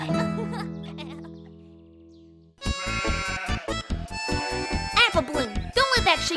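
A sheep bleats in an animated pony cartoon, one long, wavering call up front that then gives way to lively voices talking and exclaiming.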